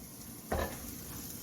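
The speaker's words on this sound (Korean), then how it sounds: "프라이팬이 달궈지면 고기를 올립니다" Slab of pork belly laid into a preheated frying pan, a sudden loud sizzle burst on contact that settles into a steady frying hiss.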